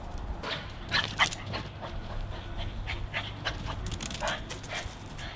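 Big dog whimpering and panting outdoors, a run of high whines and yips over steady breathing, close and moderately loud, with no voices.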